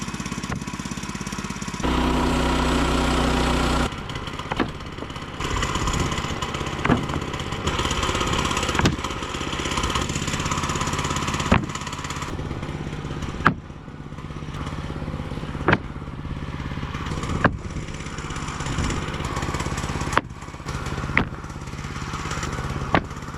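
A new Woodland Mills sawmill engine runs steadily while milling cedar boards, giving a loud continuous motor drone with a few sharp knocks and clunks from the log and blade, and no talk.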